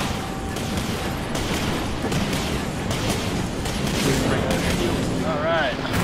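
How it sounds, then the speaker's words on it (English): Missiles fire in rapid repeated booming bursts during a space-combat match in the video game Dreadnought, loud and continuous, with a voice briefly speaking near the end. "Firing missiles."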